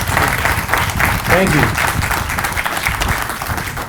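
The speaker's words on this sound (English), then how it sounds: "Let's give another round of applause to the Lincoln High School Band and ROTC." A crowd applauds the Lincoln High School Band and ROTC at an outdoor solar energy center commissioning ceremony, with loud, steady clapping while a voice speaks briefly over it.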